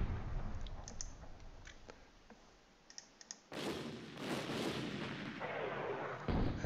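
Artillery bombardment in the Stalingrad '42 Panzer Campaigns wargame: a few soft clicks over a quiet bed, then a sudden loud, sustained barrage of dense booming blasts that rolls on to the end.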